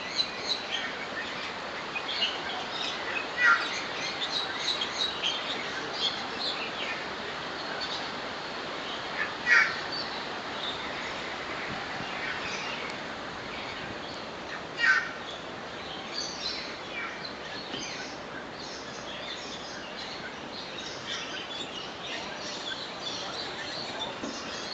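Birds call and chirp continuously in a park bird aviary in Hong Kong, with a few louder sharp caws standing out over a dense, distant chorus of birdsong.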